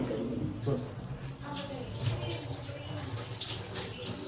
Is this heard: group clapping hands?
no